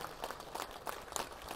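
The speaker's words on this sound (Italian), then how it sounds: "io chiedo un altro applauso doveroso per il maestro Mario Truffelli" Faint, distant applause at the fifth Dino Adamesteanu award ceremony in honour of the late maestro Mario Truffelli; soft, steady clapping blurs into a low wash without voices.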